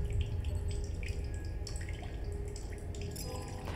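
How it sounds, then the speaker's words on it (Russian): Water trickles and drips steadily into a bottle inside a cave in the video game The Solus Project, a soft continuous liquid patter at moderate level with no talk. "Я ведь могу бутылку наполнить тут."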